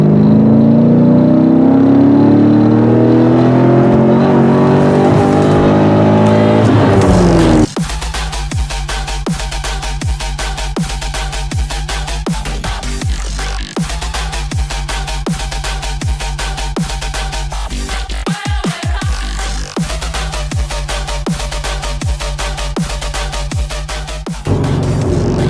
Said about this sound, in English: Okay, we might have to do a third gear pull. All right, third gear pull now.